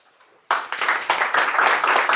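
Applause breaks out abruptly after a quiet moment, a dense crowd clapping at a lecture on esoteric El Escorial, steady and fairly loud to the end.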